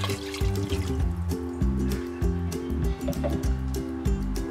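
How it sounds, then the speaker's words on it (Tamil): Water poured into a pressure cooker for chicken biryani, a close trickling and splashing with uneven bursts of metallic, resonant clatter throughout. "நான் இன்னைக்கு வந்து 4 கப் அளவுக்கு தண்ணி ஆட் பண்ணுறேன்"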